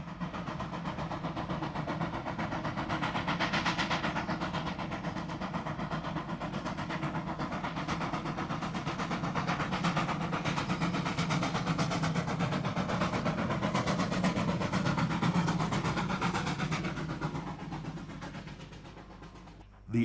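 Steam locomotive number 3321 hauls a mixed train up Michell's Pass toward Ceres with a continuous heavy chugging roar and rhythmic exhaust beats. The sound stays loud and sustained, then drops away abruptly at the end.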